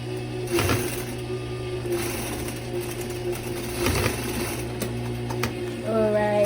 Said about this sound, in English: Okay, then you turn and continue sewing.